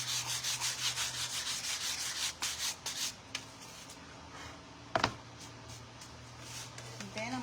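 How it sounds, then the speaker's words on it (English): Light hand sanding of a wooden door hanger: quick rhythmic rubbing strokes at first, then sparser scrapes, with a low hum underneath. "A little bit light sanding."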